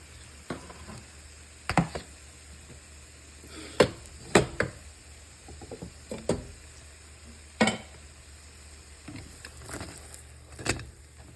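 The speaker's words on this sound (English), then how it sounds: "I was frying in the pot. And I'm using butter." Food frying in butter in a pot gives a steady low sizzle, broken by intermittent sharp knocks and scrapes of a utensil against the pot, fairly close and with no talking.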